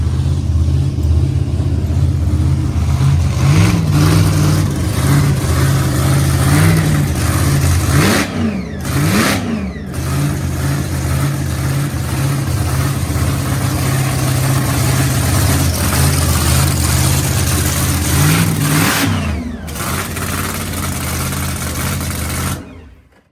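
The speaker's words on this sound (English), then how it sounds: "Sounds like they got the Village Motorsports Camaro running again" Village Motorsports Camaro race car engine running loud and close, a steady rumbling idle broken by a few sharp revs that rise and fall, with no talk over it.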